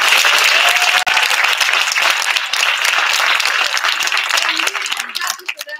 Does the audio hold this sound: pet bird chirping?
no